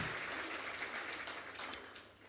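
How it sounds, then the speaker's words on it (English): A concert audience at a music series event gives a round of applause, a soft, distant and continuous patter of many hands that stays steady with a few sharper claps near the end. "I think we need to give him a round of applause as well for putting together such a beautiful event."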